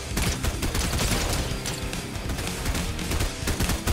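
Bursts of rapid gunfire from a gun in the video game Fortnite crackle steadily over a dense, busy game soundscape, staying loud and continuous throughout.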